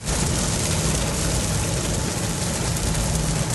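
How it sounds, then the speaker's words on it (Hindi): Dense, unbroken roar of heavy rain, loud and steady throughout with a low rumble underneath. "यहाँ पे भी बारिश बहुत तेज है भाई।"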